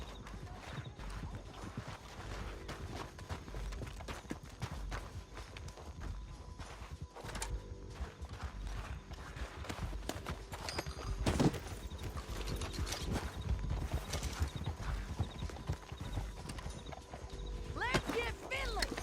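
Horse hooves clip-clop steadily over dirt in Red Dead Redemption 2, with an occasional whinny, under loud in-game voices, gunfire and a busy action soundscape.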